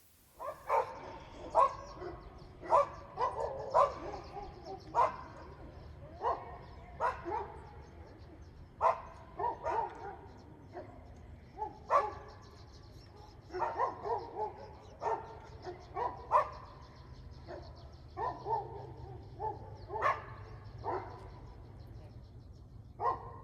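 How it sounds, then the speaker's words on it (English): Several neighborhood dogs bark from a yard in a long, irregular chorus of sharp barks and yips, some overlapping, continuing throughout at moderate distance with a steady low background hum. "They are left out in yards to bark all day and all night, like my neighbor's dogs."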